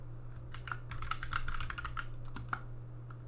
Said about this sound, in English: here we'll enter in our password